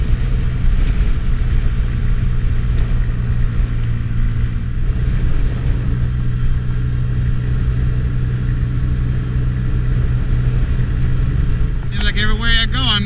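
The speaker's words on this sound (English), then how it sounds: "Seems like everywhere I go, I'm in a headwind." Steady, loud wind roar and engine rumble while riding a Honda Ruckus scooter into a cold-weather headwind, continuous and close throughout, with a brief higher-pitched burst near the end.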